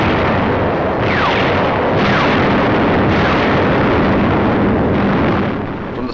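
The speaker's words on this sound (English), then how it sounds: "From the skies, a bombardment to which we had no adequate answer." Wartime bombardment in the North African campaign of 1944, with heavy artillery blasts and explosions rolling continuously, loud and dense, with repeated booming impacts over a constant roar.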